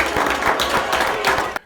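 Steady applause from an audience at a military wing's annual awards ceremony for the winners and nominees, with dense clapping that stays even and fairly loud before cutting off abruptly.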